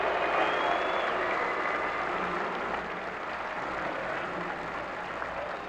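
Steady, dense applause from a large crowd outdoors at the 1994 New York Rangers championship parade, a continuous wash of clapping and cheering that fades slightly toward the end.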